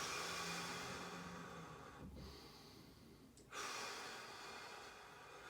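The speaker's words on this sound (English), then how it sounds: "all you're going to do is breathe in" Deep, slow breathing during a toe-touch stretch, with a long airy inhale, a brief pause and then a sharp intake near the end, heard close and quiet over a background hiss.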